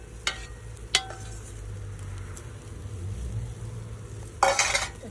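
Baby corn coated in butter, chaat masala and lemon roasts in a pan, giving a soft, steady sizzle punctuated by a few sharp stirring clinks and a louder burst of frying near the end.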